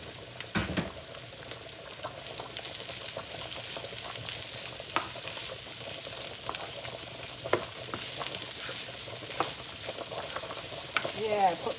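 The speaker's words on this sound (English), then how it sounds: "I put the garlic in at the same time because I'm just gonna let the onion become translucent" A whole onion and four cloves of garlic fry on high heat in a pan, giving a steady hissing sizzle throughout with occasional knocks and scrapes of stirring.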